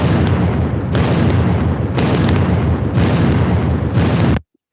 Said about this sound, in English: So I added this kind of exploding sound.